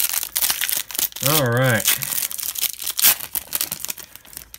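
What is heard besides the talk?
opening Upper Deck hockey card pack wrappers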